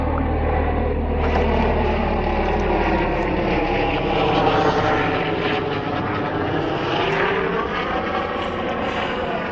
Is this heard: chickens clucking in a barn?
no